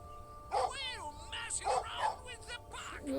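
Dog barking in a video game, several yips and whimpering barks spread across a few seconds, heard faintly under a player talking.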